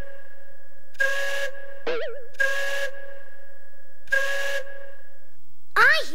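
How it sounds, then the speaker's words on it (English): A steady two-tone steam-style whistle sounds in three sustained blasts of about half a second each, with a fainter continuous tone between them, plus a couple of short warbling, slide-whistle-like cartoon chirps, in a children's educational game about a stopped bus. "I hear a whistle."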